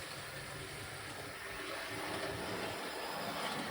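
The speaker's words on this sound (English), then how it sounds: "let me bring around and we'll see if this locomotive can do a crawl" A Dapol Foxcote Manor Gen II model steam locomotive runs on its track with a faint, steady mechanical hum and light rolling noise, heard alone.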